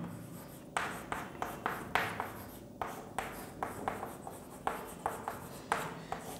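Chalk or a marker writing on a board during a chemistry lesson makes a run of short scratchy strokes. They come in quick uneven bursts with brief pauses between them, close and fairly quiet, with no talking.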